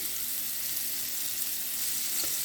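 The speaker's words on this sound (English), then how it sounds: "I am using a combination of canola and olive oil here to fry my fish in." Fish frying on medium heat in a pan of mixed canola and olive oil for an Italian piccata, giving a steady, even sizzle that holds at a constant level throughout with no talking.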